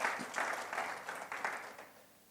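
A congregation at a Sunday worship service claps together in a short burst of applause, the sound swelling in several waves before tapering off, with no voices over it.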